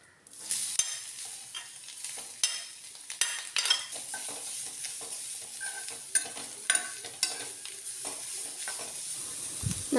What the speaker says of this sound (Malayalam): ഇതിലേക്ക് ഇനി നമ്മുടെ ക്യാരറ്റ് ഗ്രേറ്റ് ചെയ്തിട്ട് കൊടുക്കാം.